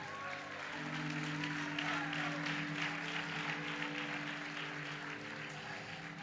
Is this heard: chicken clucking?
no